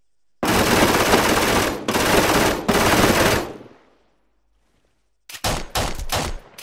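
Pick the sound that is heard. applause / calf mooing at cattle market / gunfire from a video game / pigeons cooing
gunfire from a video game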